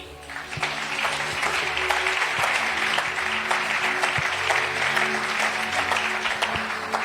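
A church congregation at a prophetic worship service applauds steadily, dense clapping with some cheering filling the room at an even level for several seconds.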